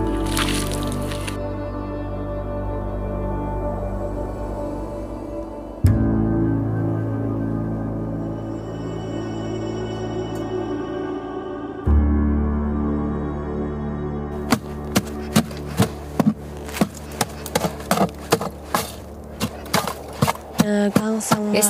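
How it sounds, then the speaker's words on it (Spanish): In the Himalaya, a hole is chopped through the winter ice of a frozen stream that supplies a village with water, heard as irregular sharp cracks and thuds that quicken into a rapid series of close impacts near the end, with background music underneath. "Cuando se congela en invierno, tenemos que abrir un agujero en el hielo."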